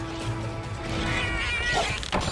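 A cat companion fighting in Monster Hunter Portable 3rd lets out meow-like cries and yowls over a busy game soundscape with impact thwacks, all steady and fairly loud.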